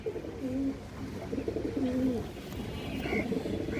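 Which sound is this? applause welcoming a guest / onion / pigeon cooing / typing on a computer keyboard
pigeon cooing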